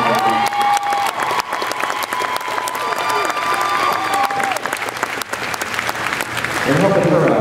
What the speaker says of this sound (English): Randy Frost, stand up for some applause.